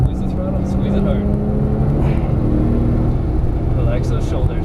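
Engine of a Porsche 997 S accelerating on the Las Vegas Motor Speedway circuit, a steady loud climbing drone heard from close by, with a person speaking over it at times.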